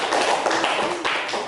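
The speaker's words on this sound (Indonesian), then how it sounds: "Tepuk tangan buat kelompok 3." A classroom of students claps for a group, a short, dense, close patter of many hands with faint voices underneath.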